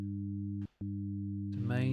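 Steady synthesized sine tones sound at 100, 200 and 300 hertz, added together as a fundamental with overtones in a constant hum. The tone briefly cuts out, resumes, then a voice starts speaking over it near the end.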